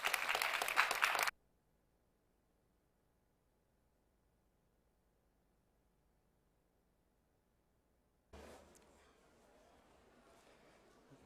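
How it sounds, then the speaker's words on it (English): An audience at a festival opening at Antwerp Management School applauds in a loud, dense burst that stops abruptly after a moment, leaving near silence before faint room sound returns. "Your applause, please."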